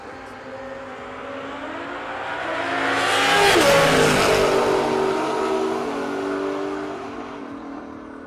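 Junior dragster race cars accelerate down a drag strip at an outdoor racing event, their engine whine rising and growing louder as they sweep past, then fading away.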